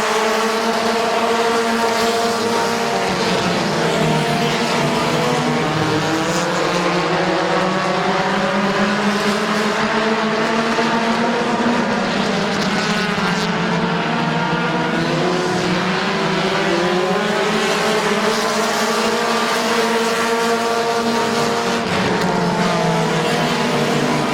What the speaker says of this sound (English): Dan Bucky to the inside of Little Animal for the race lead. Bucky's going to lead lap number 2.